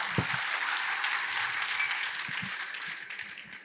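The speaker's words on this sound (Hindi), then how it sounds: "खुल करके ताली बजा सकते हैं आधे अधूरे में।" An interview audience claps in a sustained round of applause, bright and even throughout with a couple of closer individual claps standing out near the start.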